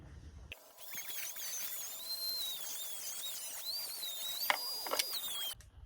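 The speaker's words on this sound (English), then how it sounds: "we'll take a Dremel tool and we'll grind this out" A Dremel rotary tool grinds out the riser of an old compound bow being converted to a longbow, a steady high-pitched whine that wavers in pitch as it bites into the material, starting abruptly and running continuously close up.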